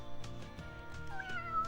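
A cat meowing in the video game Arc The Lad: Twilight of the Spirits, a clear, close meow with a rising-and-falling pitch heard alone over quiet game ambience.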